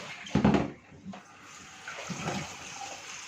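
Tap water runs over frozen cooked food to thaw it, a soft steady rush with a louder splashing burst near the start, heard up close and fairly faint.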